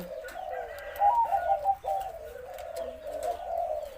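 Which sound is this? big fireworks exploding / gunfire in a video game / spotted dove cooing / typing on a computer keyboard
spotted dove cooing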